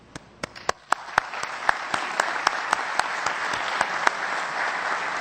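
An audience at an academic session claps in scattered, sharp hand claps at first, which quickly swell into a steady round of applause.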